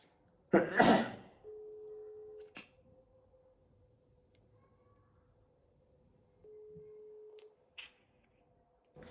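Two long, steady phone-line tones sound about five seconds apart over a faint background hum, on a call that will not connect; a loud, sneeze-like burst comes just before the first tone.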